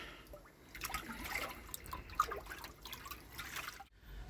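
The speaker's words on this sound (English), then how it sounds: "Empty it all into that same tub." Pond water pours and trickles into a tub outdoors, a steady splashing and dribbling stream at close range with a brief pause near the end.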